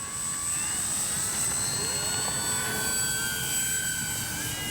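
An RC X-Fly Spitfire model warplane flies steadily overhead, its electric motor giving a continuous whining drone with slowly shifting pitch as it passes at a moderate distance.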